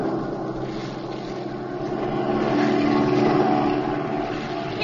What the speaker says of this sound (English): swing over so we can get a look at that plane down there